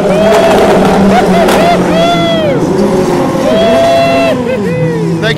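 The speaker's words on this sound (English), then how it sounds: "There go the United Autosport LMP2 cars, skeetering away, skidding, drifting, as they pull away" United Autosport LMP2 race cars pull away from the start, their engines loud and close, rising and falling in pitch as several cars accelerate one after another over a dense crowd-and-track roar.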